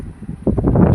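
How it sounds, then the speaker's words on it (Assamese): Strong wind buffets the microphone in a paddy field in Tamil Nadu, a loud, rumbling roar that surges in gusts over one second. "আজি ইমান ধুনীয়া বতাহ মাৰি আছে দেখছি নহয় পুৰা বতাহৰ আৱাজ"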